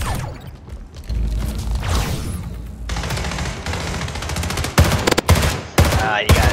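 Rapid SMG bursts in the arena shooter Splitgate, loud close automatic fire in dense rattling volleys, broken by short gaps and sharp clustered shots toward the end, over game effects.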